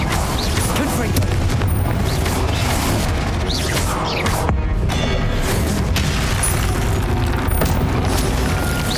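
Confringo fire blast spell in Hogwarts Legacy, a run of loud booming bursts and crashes in quick succession, dense and close, with a short dip before the blasts resume.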